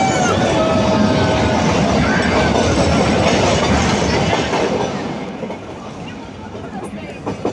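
The Nilgiri Mountain Railway rack-and-pinion toy train near Ooty rumbles along with clattering wheels and a loud interior din, with voices mixed in, gradually easing and growing quieter toward the end.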